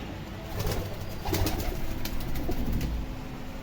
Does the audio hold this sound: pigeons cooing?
yes